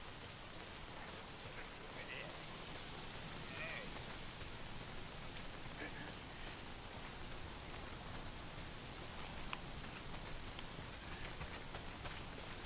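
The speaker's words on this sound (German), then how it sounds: "Oh, verdammter Regen." Steady, close rain hisses and patters across surfaces in the open world of the video game Days Gone, a dense even wash that runs unbroken for the whole stretch with no other sound standing out.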